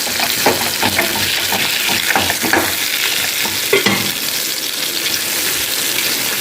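Sardines frying in a pan over a medium flame, bright steady sizzle with scraping, clattering strokes as the fish are turned over, close and loud, no voices.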